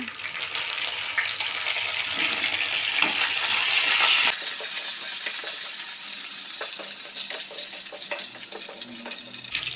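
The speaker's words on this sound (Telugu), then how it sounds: "ఇప్పుడు ఇందులో కొంచెం మనం కరివేపాకు కూడా వేసుకుందామండి" Curry leaves and dried red chili pieces frying in a pan for amla pickle make a loud, close, continuous sizzle that flares up sharply partway through and stays intense.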